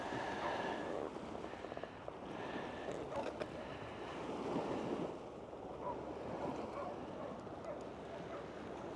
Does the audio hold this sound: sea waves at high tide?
yes